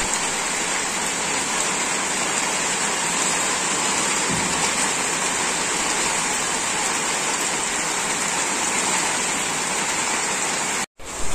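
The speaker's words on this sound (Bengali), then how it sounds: "দেখো বাইরে খুব বৃষ্টি হচ্ছে" Heavy rain falls outside a kitchen in a steady, dense hiss that runs unbroken for over ten seconds, loud and even, with a brief dropout near the end and no speech.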